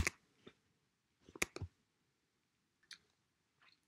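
Mouse clicks while expanding a software menu for a farm-scenario planner: a few sharp, dry clicks in irregular bursts, close and fairly quiet, with silence between.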